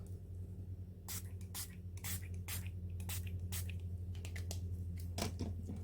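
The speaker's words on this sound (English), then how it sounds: "Sometimes I don't like the directionality of the spray bottle, so I'm helping it along." A spray bottle mists colour onto a mixed media art journal page in a quick run of short hissing bursts, some single and some in clusters, heard over a steady low hum in the room.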